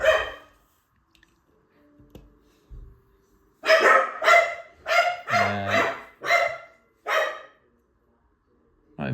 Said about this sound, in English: I can hear the dogs are interested in that now.